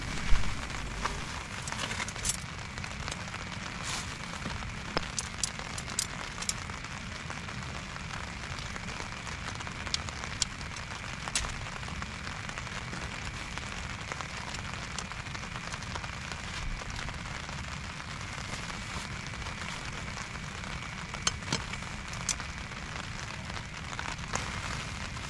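Heavy rain pours steadily over a campsite at Auntyla Camp, a dense, even hiss that runs throughout with scattered close drips and crackles, without voices.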